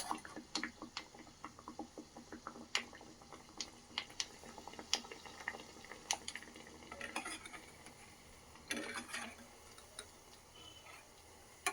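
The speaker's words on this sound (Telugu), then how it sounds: "మంచిగా పొంగుతూ ఇలా వస్తున్నాయండి నూనె పోలేలు మాత్రము చాలా బాగా వస్తున్నాయి." Jaggery puris fry in hot oil, with scattered crackles, sizzles and light clinks of a utensil against the pan, fairly faint and irregular throughout.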